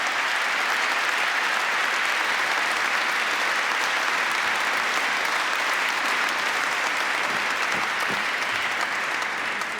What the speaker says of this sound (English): a great round of applause for both of them for tackling those challenges